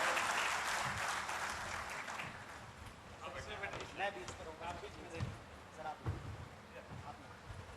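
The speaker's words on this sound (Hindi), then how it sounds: "जोरदार तालियां चाहिए मुझे" An audience at a televised public forum with a politician breaks into applause that starts full and loud, then thins into scattered claps and thumps with voices mixed in.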